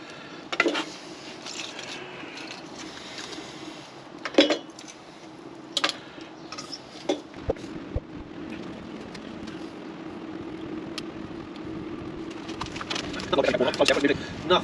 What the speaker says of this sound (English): 2 Kelly Kettles running together.